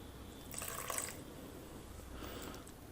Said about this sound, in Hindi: अभी इसमें हम थोड़ा सा पानी और डालेंगे।